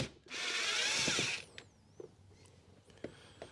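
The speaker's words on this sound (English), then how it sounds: "So I'm just going to go ahead and loosen all of these screws off." A power driver loosens screws on a Ford S-Max 2.0 TDCi diesel air filter box, one short high whirring burst followed by light clicks and handling taps in a quiet space.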